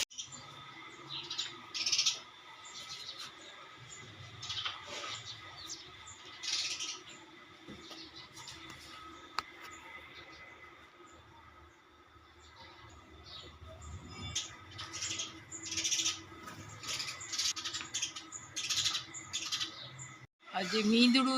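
A lost sparrow chick chirps in quick clustered bursts of high, thin calls separated by quieter gaps, with faint voices in the background.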